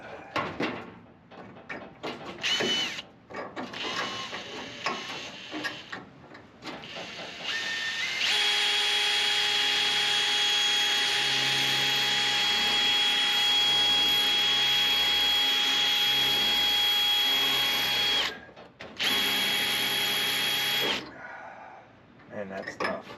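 A drill bores into the corner of a 1970 Nova tail light tray. It starts with short bursts, then runs as a long, loud, steady whine with a harsh hiss before stopping briefly and starting again.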